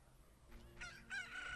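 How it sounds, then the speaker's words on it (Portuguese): A rooster crows in The Legend of Zelda: Ocarina of Time, a short electronic cock-a-doodle-doo rising in two bursts over faint game background, heard alone. "Cocoricó."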